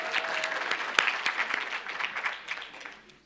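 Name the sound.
audience applause at a summit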